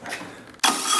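A 1967 VW Karmann Ghia engine, abandoned for 45 years, cranks briefly and then catches, jumping into a loud, steady, rough close-up roar.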